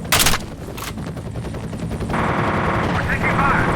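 Gunfire in the video game F.E.A.R., with a couple of sharp shots followed by sustained rapid automatic fire under a shouting voice.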